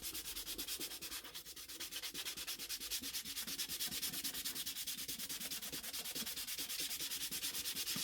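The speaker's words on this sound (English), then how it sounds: "they saw me use sandpaper on a violin once" Sandpaper rubs steadily against a violin's varnished wooden body in rapid, even back-and-forth strokes, close and continuous but fairly quiet, with no voices.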